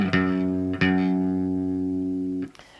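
Electric guitar playing an intro riff: two picked, sustained notes with distortion ringing out cleanly, then cut off, alone with no voice.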